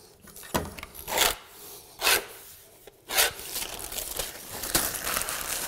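Trimming excess laminate flooring transition trim, heard as a few close, loud rasping and crinkling cuts in separate bursts, with quieter scraping and rubbing between them.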